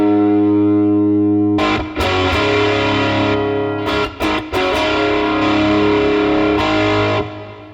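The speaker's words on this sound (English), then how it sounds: "Let's play with the twin reverb." Electric guitar played through a NuX Mighty Plug headphone amp on its twin reverb amp model, sustained ringing chords with a few sharp strummed attacks and reverb tails, loud and close.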